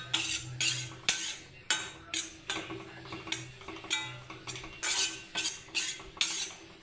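A spoon scrapes and taps in a pan while black kavuni rice flour is dry-roasted, with a repeated rhythmic stirring of about a dozen strokes, close and fairly quiet, with no talk.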